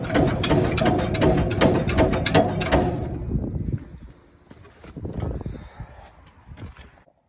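A ratchet being pumped to tension and free the seized plunger of a Massey 12 baler, a loud run of rapid mechanical clicks that eases into quieter, sparser ratcheting and creaks, close by.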